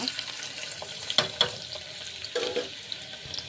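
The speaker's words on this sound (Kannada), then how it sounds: "ಎಣ್ಣೆ ಬಿಸಿ ಆದಮೇಲೆ ಆವಾಗಲೇ ಹೆಚ್ಚಿಟ್ಕೊಂಡಿದ್ವಲ್ಲ ಈರುಳ್ಳಿ ಅದು ಒಗ್ಗರಣೆಗೆ ಹಾಕೋಣ" Chopped onion dropped into hot oil for a tempering, for a brinjal masala curry, sizzles and crackles at close range, with a few louder stirring clatters over a steady frying hiss.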